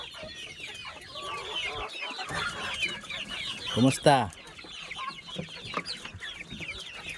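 Hens cluck repeatedly in the background, with a short burst of louder squawking midway and a brief spoken greeting near the start.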